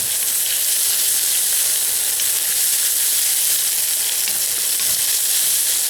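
An egg fries in a pan for fried rice, a loud, dense and continuous crackling sizzle that holds steady throughout with no talking.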